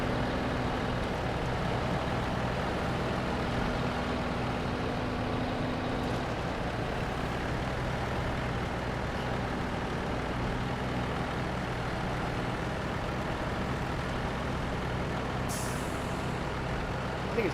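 A logging truck engine in SnowRunner on an Alaska logging mission drones steadily and loudly with a continuous rumble and hiss, a brief higher burst near the end, and no talking.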